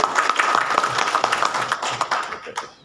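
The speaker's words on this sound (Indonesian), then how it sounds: "Beri tepuk tangan dulu dong." Audience applause at a Catholic family-guidance gathering at a government religious affairs office in Pontianak, a dense, steady patter of many hands clapping close by, tapering slightly at the end.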